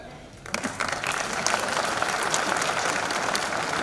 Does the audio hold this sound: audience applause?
yes